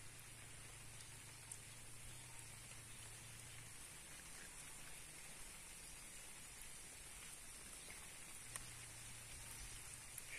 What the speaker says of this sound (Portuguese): Graças a Deus tá chovendo bastante, ó.